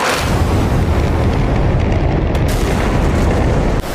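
An aircraft shot down and exploding in DCS World, a loud, sustained roaring blast that fills the whole stretch and cuts off sharply near the end.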